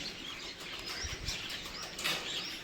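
Crows and mynas chirping and calling outdoors in a village, with a few soft wing flaps and scattered tweets against a steady background hiss.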